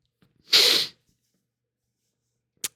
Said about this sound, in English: That was a really inopportune sneeze.